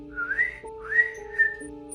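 A person whistles a short tune, a few rising and sustained notes, close and clear against a faint steady hum.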